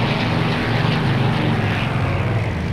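Spitfire Mk I piston engine in a flight simulator while flying inverted: a loud, continuous propeller drone with a slightly rough, uneven texture throughout, heard alone with no talking.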